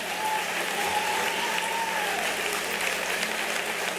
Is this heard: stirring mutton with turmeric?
no